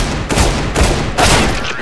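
Loud gunfire bursts from a video game, about three heavy blasts spaced across the moment, each with a broad rumbling tail.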